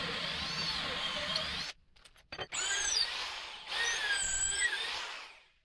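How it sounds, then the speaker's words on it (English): Hand drill boring through glued wood blocks, a steady whirring grind with a brief pause partway through, then continuing until it winds down, fairly quiet and close. "We really want to make sure that the drill bit follows the natural path that we've created for it."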